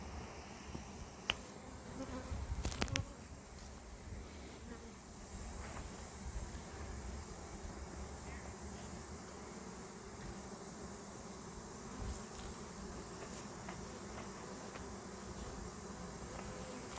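A honey bee swarm flies around a tree, producing a continuous soft buzzing drone of many insects, faint and steady throughout with no talking.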